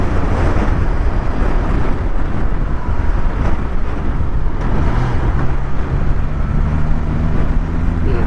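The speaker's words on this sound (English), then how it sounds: "that's just the wind" Loud, steady wind buffeting a microphone while riding a motorcycle at speed without protection from the screen, a continuous low roar that fills the whole stretch with engine drone beneath.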